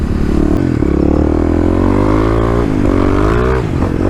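Kawasaki KLX351 dual-sport motorcycle with Pro Taper bars accelerating hard on muddy ground, its engine note rising and falling through a steady, loud, close-up rev with no talk.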